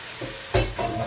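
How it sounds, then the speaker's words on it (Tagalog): Jackfruit stirred in coconut milk in a pan with dried fish and anchovies, a soft wet scrape and bubbling sizzle with one louder stir burst midway, close and brief. "Tapos haluin lang natin."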